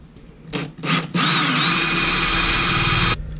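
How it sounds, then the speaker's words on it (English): A power drill with a 7/16 bit whirs in two short bursts, then runs steadily for about two seconds at close range drilling through a plastic cap before stopping, with no one talking. "We're just going to drill a hole in the middle of the cap with our 7/16 drill bit"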